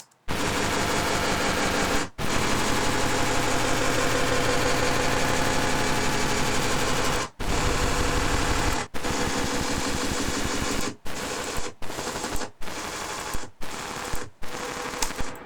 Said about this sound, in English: There is this kind of repeating sound, very pulsating, that goes along all the file.